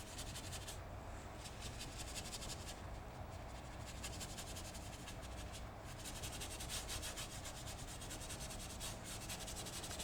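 Paintbrush scrubbing paint onto a painted theatrical backdrop, a continuous dry rubbing and scratching texture with rapid repeated brush strokes, close and steady throughout without speech.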